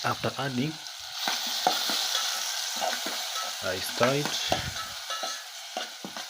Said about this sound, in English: I stir it well and let it at least